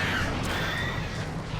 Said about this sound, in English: He's got birds as well.